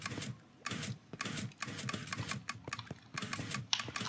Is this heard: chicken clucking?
no